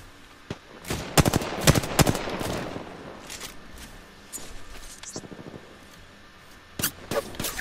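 Video game gunfire rings out in sharp bursts and short volleys, loud and close, with quieter gaps between and a brief voice.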